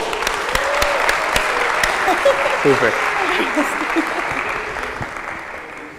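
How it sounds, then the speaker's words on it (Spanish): An audience bursts into applause at a live talk, a dense clatter of clapping hands that holds for several seconds and slowly tapers, with a voice speaking briefly over it. "¡Un aplauso!"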